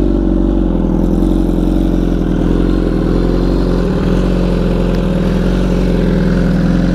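A BMW S1000RR sport bike with a full titanium Akrapovic exhaust running loud and close, its engine holding a steady, throbbing drone for several seconds with slight swells in revs, and nobody speaking.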